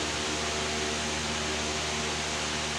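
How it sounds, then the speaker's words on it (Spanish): Electric fan with a newly installed coil running on its lowest speed, a steady broadband whoosh of moving air with a faint motor hum underneath, continuous and even with no voices. "Note, se activó el ventilador"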